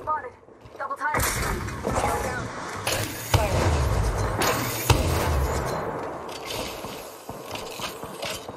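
Gunfire in the battle-royale shooter Apex Legends, with sharp, loud shots breaking out after a quiet start, several heavy impacts and a spread of clattering bursts beneath the game's busy soundscape and occasional speech.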